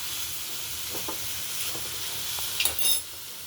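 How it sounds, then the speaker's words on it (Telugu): Ingredients dry roasting in a pan, a steady soft sizzle and stirring scrape running throughout, with a brief brighter hiss and clatter near the end and no voices. "ఇప్పుడు దీంతో స్లైట్గా డ్రై రోస్ట్ చేసుకుందాం."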